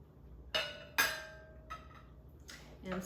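Browned meat dropped into a full pot of sweet and sour soup: a few soft clinks and wet thumps from utensil and pot, fairly quiet and spaced out, with no talking.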